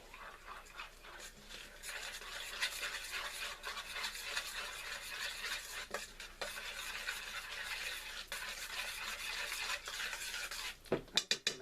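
Milk being stirred into tamale pie batter in a bowl, a quiet, continuous scraping and sloshing of a utensil going round, with a few clinks near the end.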